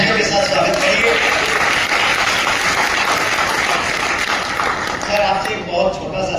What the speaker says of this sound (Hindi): तो चलिए दोस्तों, एक बार बहुत तालियों के साथ स्वागत करिए।